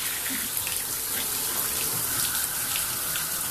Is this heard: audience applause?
no